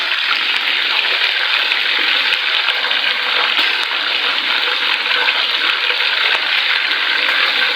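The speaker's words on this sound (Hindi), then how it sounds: "इसको तेज़ गरम घी के अंदर इसको फ्राई करना है" Chicken pieces fry in very hot ghee for a korma, a dense, even sizzling hiss that stays loud and constant from start to finish, with no voices.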